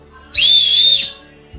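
The whistle from a military pocket survival kit gives a single short, shrill, steady blast lasting under a second, loud and close, with no other sound around it.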